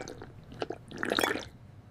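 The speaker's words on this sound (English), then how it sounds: "I drink water." Someone drinks water in a quiet indoor setting, with a brief run of close, soft sips and swallowing gulps and no talking.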